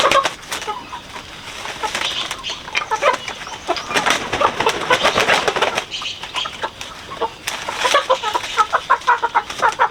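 Chickens on a small family farm in a tropical rainforest cluck and squawk in bursts, close and fairly loud, with a few sharper calls and some wing flapping between quieter stretches.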